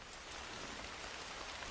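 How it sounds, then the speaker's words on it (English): Rain in the video game Red Dead Redemption 2 falls as a soft, steady hiss of drops on surfaces, faint and continuous with no talk. "Is this rain foreboding?"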